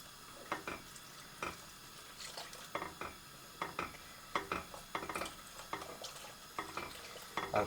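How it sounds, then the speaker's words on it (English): Milk being whisked into a sauce in a pan over medium heat, with irregular metallic clicks and scrapes of the whisk against the pan and soft liquid sloshing. "Got to keep whisking it until it is smooth."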